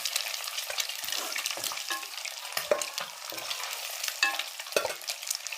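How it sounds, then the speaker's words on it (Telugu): Boiled eggs frying in a pan, a crackling sizzle broken by repeated quick scraping and clinking strokes of a spatula, close and fairly quiet, with no talking. "ఇదిగోండి గుడ్లు ఇలా ఫ్రై అయిపోయినాయి."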